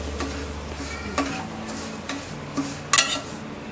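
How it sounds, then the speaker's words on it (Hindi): Semolina (rava) frying in ghee over low heat makes a gentle, quiet sizzle, broken by several scraping stirs and a sharp utensil clink against the pan. "इसमें डालेंगे ये 1 कप रवा, और इसे धीमी आंच पर फ्राई करेंगे।"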